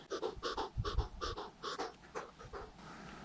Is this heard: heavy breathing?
yes